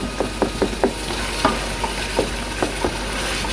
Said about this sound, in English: The tomatoes are cooking.